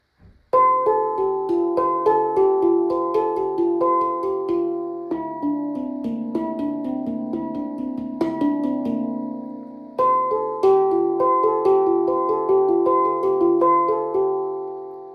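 Resonant metallic tones struck in quick rhythmic patterns, ringing and overlapping in a steady melodic loop, played alone and close.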